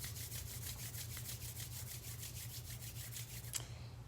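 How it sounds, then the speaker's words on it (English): Palms briskly rubbed together at heart center during a Kundalini yoga meditation, a rapid, steady back-and-forth swishing friction heard up close and alone, stopping abruptly near the end. "bring the hands to heart center, briskly rubbing them, creating this friction"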